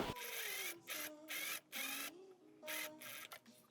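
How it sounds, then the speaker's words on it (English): A sewing machine gathering the hem of a dress underdress runs in several short, even bursts with brief pauses between them, giving a quiet motor whir that rises and falls in pitch. "So let's gather the hem a tiny bit."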